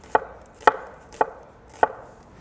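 A knife slices a red onion very thin on a cutting board, four crisp, evenly spaced strokes about half a second apart, close and clean with no voices.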